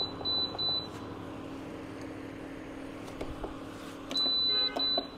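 A Japanese double induction cooktop gives out high electronic beeps as it is switched on, two short tones near the start and a longer one near the end, set over a steady low hum.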